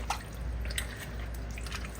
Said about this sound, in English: I'm going to re-rinse the chicken in cold water until it runs nice and clear.